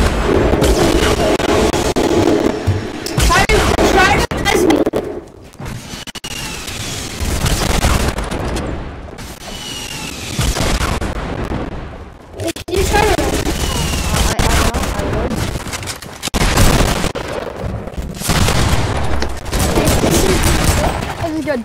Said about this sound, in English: Oh, I'm getting rocket launchered.